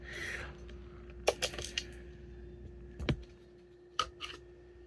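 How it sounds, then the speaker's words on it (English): MacBook keyboard keys pressed by a phone resting on them give a few faint, scattered clicks in small clusters over a quiet background hum. "The typing will eventually stop."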